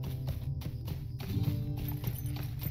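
Goat mount's hooves running in Lord of the Rings Online, a fast clip-clop rhythm of repeated hoofbeats, fairly loud and steady throughout, with no talk.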